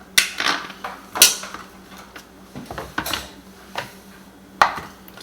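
Onion and other ingredients are chopped in a covered chopper, producing a series of sharp, close clacks and knocks at an irregular pace, moderately loud, with no talking.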